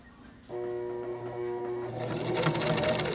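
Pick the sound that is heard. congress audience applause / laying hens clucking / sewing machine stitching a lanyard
sewing machine stitching a lanyard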